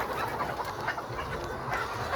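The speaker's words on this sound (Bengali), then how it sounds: "বিকালের খাদ্য মুরগিকে দেওয়া হচ্ছে" Chickens cluck steadily in a poultry shed during evening feeding, with light rain falling outside; a dense, continuous mass of nearby hen calls with no talk over it.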